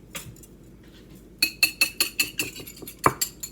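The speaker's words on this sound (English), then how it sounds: "I'm going to whisk these 2 eggs." Two eggs are whisked in a bowl, quiet at first, then a quick, regular run of bright metallic clinks and taps against the bowl, close and fairly loud.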